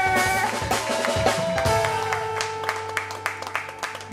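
Audience applause for a performer at a live show, a steady wash of clapping that carries for several seconds, with sustained musical tones running underneath.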